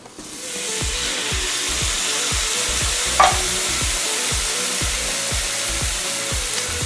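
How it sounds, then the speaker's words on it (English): Rice frying in a pan is stirred continuously so it won't burn. A loud, steady sizzle runs under a regular rhythm of spoon scrapes and knocks, with one sharp clack midway and no talking. "We kept stirring the rice just to make sure it didn't burn"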